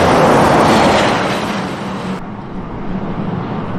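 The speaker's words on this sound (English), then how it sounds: "the road trains are noisy" Road train trucks roar past on an Australian outback highway near Lake Cargelligo, a loud broad rush that fades into a lingering rumble, with no talking.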